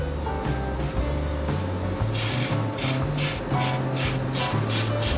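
Spray can paint hisses onto a Tamiya Ford Mustang GT4 model in a series of short, loud, evenly spaced bursts, each a few tenths of a second, over a low steady background hum.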